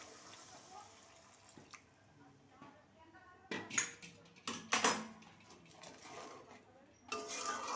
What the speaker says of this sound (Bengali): এবারে গরম জল দিয়ে দিলাম।